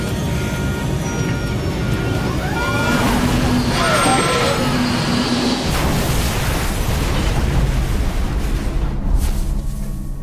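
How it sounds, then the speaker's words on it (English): Nigeria Airways Flight 2120 airliner crashing short of the runway in a fiery explosion and ground impact, rendered as a loud, sustained roaring rumble with bursts and crackling debris noise throughout. "The fiery explosion and sudden impact with the ground"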